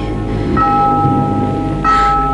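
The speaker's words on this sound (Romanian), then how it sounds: "Abia acum sună clopotul." A bell rings in a radio drama set in a small room at closing time, with sustained tonal strikes near the start and again toward the end over a steady low background.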